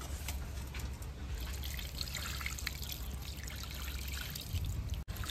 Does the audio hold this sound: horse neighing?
no